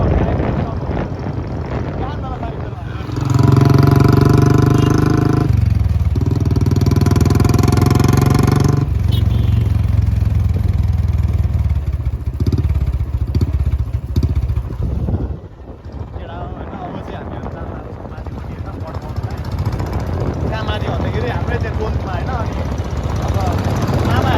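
A motorcycle with a stock silencer revs loudly nearby, its engine note rising and holding in steady bursts, then dropping back to a rough idle with wind buffeting the microphone and someone talking.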